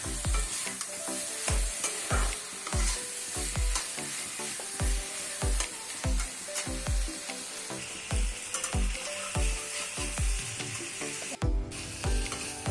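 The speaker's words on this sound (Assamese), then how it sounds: "পনীৰ আৰু পটলখিনি দিয়াৰ পিছত ভালদৰে এনেকৈ লৰাই দিছোঁ" Paneer and pointed gourd sizzle in a pan while a spoon scrapes and stirs them in a regular rhythm, dozens of strokes, close and clear, with no talking.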